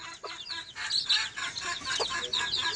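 Chickens and chicks on a Bangladeshi farm cluck and peep in a busy, fairly close chorus, with bright chick cheeps repeating throughout and no talk.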